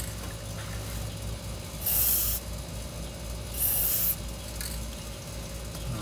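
Two short bursts of spray lubricant hiss onto a squeaky heim joint, each lasting about half a second and a couple of seconds apart, over a constant background hum with a faint later hiss.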